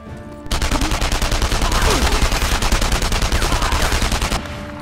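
Rapid automatic gunfire from the video game Enemy Front rattles in a dense, continuous burst lasting several seconds, loud and close, with no talk over it.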